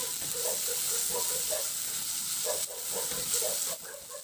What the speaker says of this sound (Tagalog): Maglagay na rin ako ng bawang. Ihalo lang din hanggang sa maglabas ng aroma yung bawang.